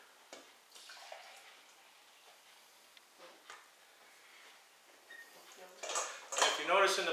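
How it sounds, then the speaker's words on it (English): Liquid is poured off grated potatoes for latkes in a home kitchen: faint handling clinks at first, then a louder splashing pour of potato water into a bowl or sink building toward the end. "I'm going to pour off all of this potato liquid"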